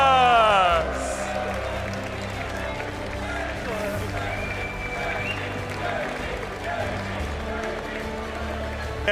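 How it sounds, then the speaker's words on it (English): Cheering crowd in the room at a British regional Pokémon tournament, a steady roar of cheers and clapping that swells at the start and carries on under excited talk. "In the room, there's been so many people cheering me on."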